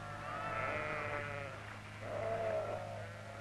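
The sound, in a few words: sheep bleating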